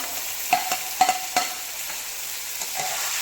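Tomatoes go into liver frying in a pan for kaleja fry, with a steady close sizzle and a few clinks and scrapes of a spoon stirring, no voices.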